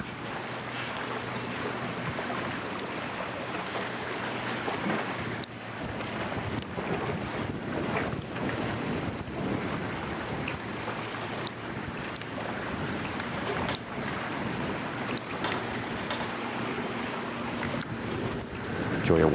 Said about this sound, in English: got the mud motor going there